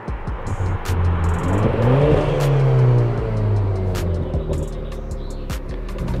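An Audi RS4 driven by a new driver accelerates hard, its close engine roar climbing in pitch and swelling, then easing off and settling to a lower drone.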